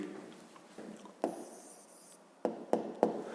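A hand writing an answer during a 5th-grade maths lesson, heard as soft scratchy strokes and rubbing, then three short firm taps or strokes near the end, close and fairly quiet.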